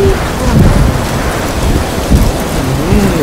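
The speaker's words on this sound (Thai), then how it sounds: "อันนี้ฝนตก" Heavy rain from the Death Stranding video game falls steadily as a loud, dense hiss, with low rumbling tones underneath that suggest distant thunder.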